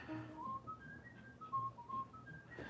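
A single person whistles a wandering, melodic tune of short rising and falling notes, quiet and alone with no talking.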